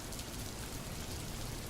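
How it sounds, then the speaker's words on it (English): Rain falls outside an old house as a steady, dense hiss with no breaks, moderately loud and close, with no voices over it. "The rain started falling outside the old house."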